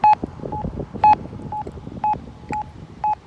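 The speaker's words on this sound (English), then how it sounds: "That is the locator tone. That tells us where it is." Pedestrian crossing audible signal locator tone at a traffic light in Kirkland Lake, Ontario: a steady series of short, sharp beeps about twice per second, loud and close over faint street noise, with no talking.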